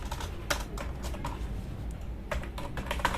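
Quiet, irregular keystrokes tapped on a computer keyboard, with short clusters of clicks and brief pauses over a faint steady background hum.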